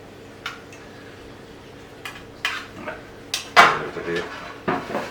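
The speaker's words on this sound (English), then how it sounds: "The same here, just tip this oil out." Metal pans clatter and scrape as oil is tipped out of one in a smoked beef chuck and burnt ends cook, a series of sharp, close knocks and clanks spread across a few seconds with no talking.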